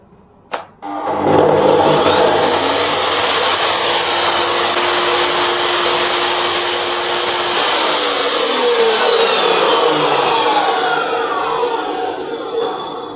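A Bosch cut-off saw fitted with a soft start device spins up to a loud, steady high whine that holds for several seconds, then winds down gradually, running close and alone without talk.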